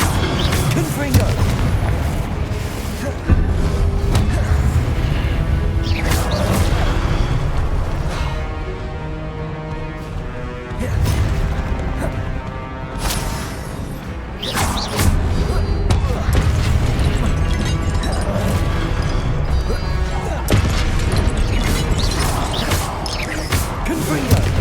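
Confringo blasting spells exploding in the Hogwarts Legacy video game, a long run of loud booming blasts and crashes with heavy thuds, mixed with game music and battle noise.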